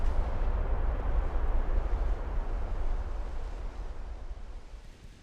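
Warship guns firing in the naval battle game Ultimate Admiral: Dreadnoughts, a deep rumbling boom that rolls on and slowly fades, heavy and low with no speech.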